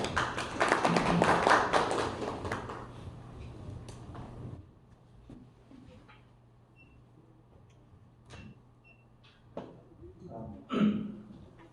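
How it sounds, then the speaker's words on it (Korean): An audience at a startup pitch event claps to welcome a speaker, a loud burst of applause that dies away within a few seconds, followed by quiet room noise with a few scattered knocks and taps. "제주에서 핫한 달하 제주 한민희 대표님 박수로 환영 부탁드립니다"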